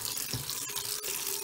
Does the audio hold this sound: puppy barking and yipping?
no